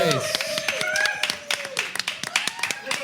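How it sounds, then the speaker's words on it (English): Scattered clapping from a small audience at a live show, uneven individual claps close by, with voices and whoops mixed in over the hands. "Everyone, clap for her."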